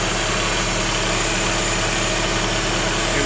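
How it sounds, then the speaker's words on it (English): A Mercedes R170 SLK 230K engine idles with a steady, even hum and a low rumbling drone, close and constant throughout. "Right, got the engine running."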